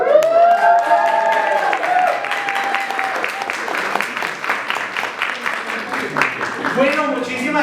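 A contest audience applauds the winners of a costume and storytelling competition with sustained clapping and crowd cheering throughout, loud and dense, with a voice and music-like tones under it at the start.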